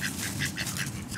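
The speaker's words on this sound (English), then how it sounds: "Look at these ducks all coming." Several ducks quack in quick, repeated bursts over a steady outdoor background, at moderate distance.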